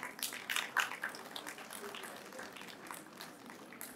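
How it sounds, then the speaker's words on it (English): Faint, scattered clapping from an audience at a university research awards ceremony, lively at first and then settling into a thin, uneven patter. "let's keep applauding at the back."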